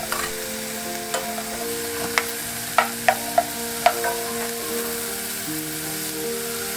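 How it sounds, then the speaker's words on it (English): Onion and pepperoni sauteing in oil in a pot, a low steady sizzle with a few sharp clinks of a utensil stirring near the middle, no voices. "Add the pepperoni and saute for a minute."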